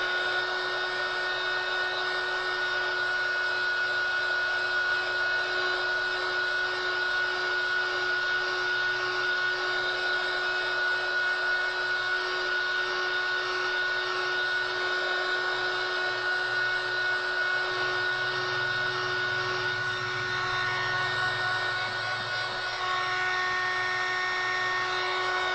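A heat gun drying a wet watercolor painting blows with a steady, loud, high-pitched whine and airy rush, holding constant and close for the whole stretch, with no voices.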